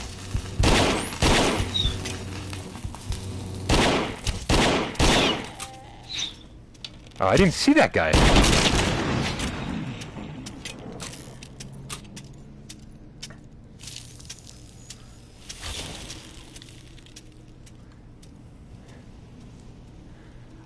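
Bursts of rapid gunfire from the PSVR wave shooter game The Walker, loud clustered volleys in the first half that thin out to sparser shots, with someone talking briefly over the action.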